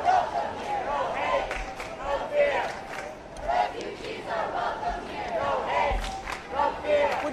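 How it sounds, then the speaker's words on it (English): A crowd at a refugee rally march in New York City chants in loud rhythmic waves with scattered clapping and shouting voices, dense and continuous throughout. "We've got clapping, people on the sidewalk supporting this movement."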